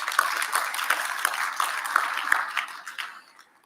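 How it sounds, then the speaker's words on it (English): An audience at an education sector gathering applauds together, a dense patter of clapping with a few sharper claps nearby that tails off toward the end. "May you all give yourselves a big round of applause."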